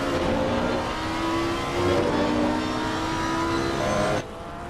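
Racing car engines rev loud and steady in a PC racing game at Valencia, a Lamborghini and a Ferrari dueling through a turn, with sustained engine whine that shifts pitch and cuts down sharply near the end.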